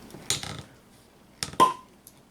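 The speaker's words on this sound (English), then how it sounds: "Let's get the cork out of this and see." A cork is worked out of a bottle of Mort Subite Kriek beer, with a couple of sharp scraping twists and then a clean pop followed by a brief fizzy hiss, close and otherwise quiet.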